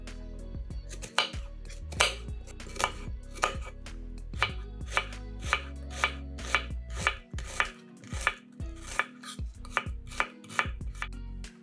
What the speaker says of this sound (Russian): Одну луковицу нарезаем кубиками